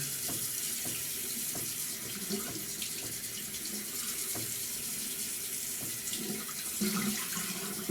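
Water runs steadily from a tap to wet the head of a shaving brush, a continuous splashing flow with small bumps and clinks from the mug and brush.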